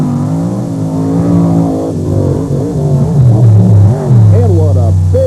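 The Monster Patrol drag race car launches hard at the 1995 Thunder on the Beach in Wildwood, New Jersey: a loud, steady engine roar whose pitch climbs in sweeps, with voices in the background.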